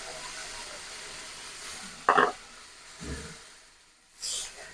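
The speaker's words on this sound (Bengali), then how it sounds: "এবার আমি এর মধ্যে দিয়ে দেবো জল।" Water hits a hot pan of frying potatoes for a rohu fish curry, giving one sharp, brief hissing sizzle that quickly fades to quieter bubbling and faint kitchen background.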